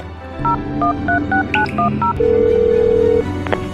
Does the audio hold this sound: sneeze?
no